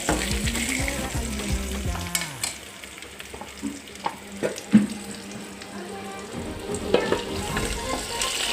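Leafy greens, including chukkakura, bachali and spinach, sizzle in a pan after a tempering, with steady frying hiss, intermittent stirring clatter and a few sharp clinks throughout, no talk.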